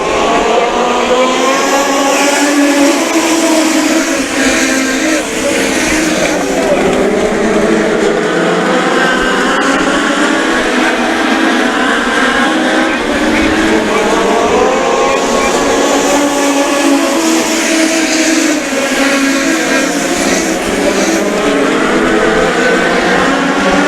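A pack of US Legend race cars accelerating together from the green-flag start at Riverhead Raceway, their engines roaring loud and continuous with rising and falling revs as they run on the short oval.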